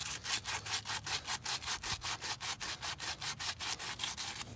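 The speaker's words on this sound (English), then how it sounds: "You can fold the sandpaper over like I was doing and just kind of go back and forth." Sandpaper scrubbed back and forth on a part from a Dodge Caravan with a no-start problem, a steady rhythmic rasp of about four strokes per second, close and quiet, with no voices.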